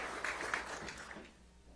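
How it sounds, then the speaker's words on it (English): Audience applause for Brooke Rollins at an institute event, a steady wash of clapping from a crowd that holds for about a second and then thins out and fades, with no talking over it. "Let's give her a round of applause as well for leading this great institute."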